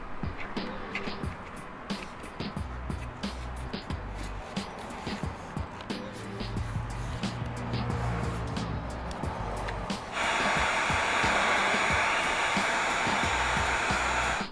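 A heat gun blows onto an Ilmberger carbon part during an install on a Streetfighter V4S motorcycle. It makes a steady, close, airy whir that grows noticeably louder and brighter partway through, and no one talks over it.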